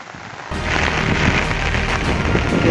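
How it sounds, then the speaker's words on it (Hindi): Heavy rain pours down on a rooftop, a loud, steady, dense hiss that cuts in abruptly after a brief quieter moment and continues without pause, with no voices. "देखिए बुआरी दौर में यहाँ पे बारिश स्टार्ट हो चुका है"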